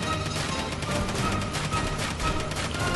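A cannon blasting down targets in Final Fantasy XV fires as a dense, continuous barrage of rapid, loud shots with no pauses.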